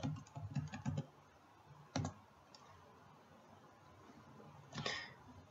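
Keys clatter on a computer keyboard as a compile command is typed, a quick burst of soft clicks, then a single keystroke and another brief tap after a pause, faint and close with no talk.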